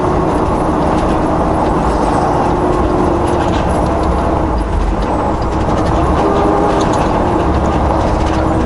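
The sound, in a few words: tire snow chains clanking while driving on slippery road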